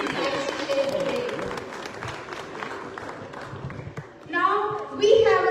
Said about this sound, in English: One more big round of applause for the wonderful contribution and the wonderful insights shared today.